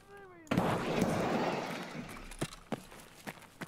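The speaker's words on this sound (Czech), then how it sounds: "Někdo po mě střílí." A loud burst of gunfire erupts in Escape from Tarkov, followed by a few scattered sharp shots at varying distances amid low rumbling background noise.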